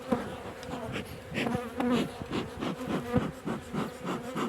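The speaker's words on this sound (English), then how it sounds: "Now what I need to do is try and get those bees out there." Honey bees buzz around a hive during autumn winter preparation, a dense, close, continuous hum with some knocking and rubbing of hive parts.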